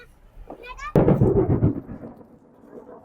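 A sudden loud crack of thunder rumbles close by and slowly fades, with a voice briefly heard just before it.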